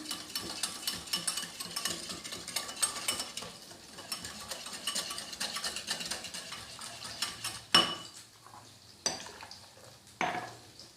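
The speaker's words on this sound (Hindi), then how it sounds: "इसको पहले अच्छा सा मिक्स कर लेंगे।" Water being stirred into fish khow suey in a pot, the spoon scraping and clicking in quick, busy strokes for several seconds before thinning to a few louder, isolated knocks and scrapes near the end.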